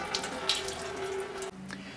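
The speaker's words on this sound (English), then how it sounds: "Go ahead and drain your cooling system." Coolant runs from the radiator drain plug of a 2004-2008 Acura TL into a catch can as a steady, trickling pour that cuts off abruptly partway through, leaving quieter dribbling.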